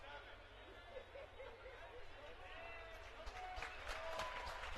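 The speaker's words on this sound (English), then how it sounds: "Fixed and crowd applauds." Crowd at a college basketball game between Stockton and TCNJ applauding steadily, a broad wash of clapping with scattered chatter and laughter, swelling slightly toward the end.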